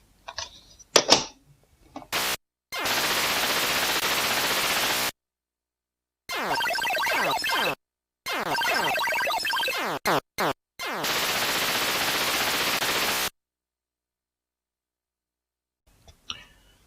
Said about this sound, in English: Space Cavern, great shooter on the Atari Joystick.